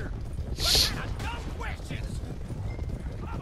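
Rhythmic hoofbeats of a galloping horse in the video game Red Dead Redemption 2 clop under talking voices, with a brief sharp noise near the start.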